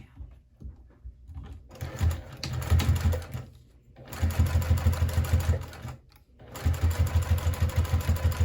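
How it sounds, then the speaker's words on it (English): A sewing machine fitted with a Teflon foot top-stitches vinyl in three steady bursts of rapid, even needle chatter, with brief pauses between runs and no talk over it. "it's the Teflon foot and I'm top stitching on vinyl"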